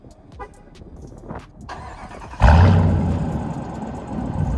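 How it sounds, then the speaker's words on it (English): A 2022 Dodge Durango R/T with a high performance chrome dual exhaust fires up and revs, a sudden loud roar that follows quieter rustling and then settles into a strong, rumbling idle. "you've got your chrome dual exhaust, and this is your high performance exhaust system"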